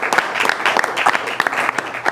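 Studio audience applauding on a talk show, a steady wash of dense clapping from a crowd that holds for the whole moment with some louder individual claps standing out.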